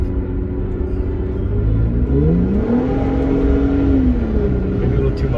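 A Jeep fitted with a Pedal Commander in sport mode accelerates and downshifts, its engine rumbling loudly from inside the cabin while the revs audibly climb in a rising whine before settling.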